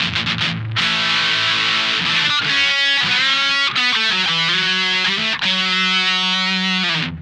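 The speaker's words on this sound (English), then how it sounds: "We'll push our distortion all the way to the top now." Electric guitar run through a Boss DS-1 distortion pedal with the distortion knob maxed, playing loud, saturated sustained chords and riffs for about seven seconds with brief gaps between phrases and no talking.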